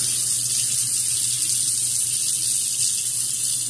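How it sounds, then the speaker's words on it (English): A razor is rinsed under a running tap, with a constant, close hiss of flowing water that never changes. No one speaks. "But when you do it, you got to rinse the thing off."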